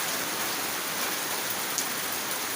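Heavy rain pours steadily over Tintiba village in The Gambia, a dense, continuous hiss of drops hitting surfaces close by, with no voices.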